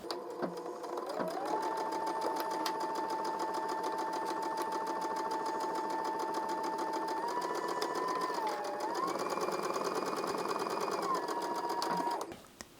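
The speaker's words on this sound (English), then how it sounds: "I'm going to go ahead and sew this at my sewing machine" A home sewing machine stitches binding onto a quarter-inch seam allowance, a close, steady motor whir with rapid needle clatter running about eleven seconds, briefly shifting speed midway before stopping abruptly.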